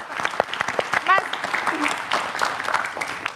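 Applause rises from the audience at an Indonesian political talk show, a short burst of scattered clapping mixed with voices and crowd noise lasting a few seconds.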